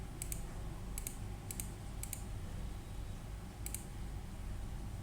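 Computer keyboard keys are tapped in short bursts to enter a CNIC issuance date for a COVID-19 vaccination certificate request in Pakistan, heard as a few quick click clusters over a steady background hum.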